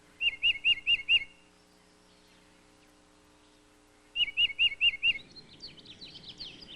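A mockingbird and a tufted titmouse call in a southeastern United States backyard. Two quick runs of four or five clear, repeated whistled notes are separated by a quiet gap, and softer chirps follow the second run.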